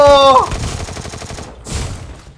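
Gunfire in the mobile shooter Free Fire: a rapid string of loud, close shots with a brief ringing tone at the start, then a short gap and one final burst.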